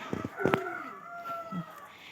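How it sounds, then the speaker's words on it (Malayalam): A chicken lets out a drawn-out call, faint and somewhat distant, after a few short knocks at the start. "ഇതാണ് എൻ്റെ കോഴി അവിടെ ഇരിക്കുന്നത്"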